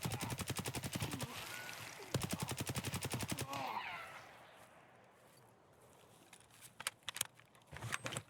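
Rapid automatic gunfire in Escape from Tarkov, two long bursts of evenly spaced shots, fairly close, then a quieter pause and a few scattered single shots and short bursts near the end.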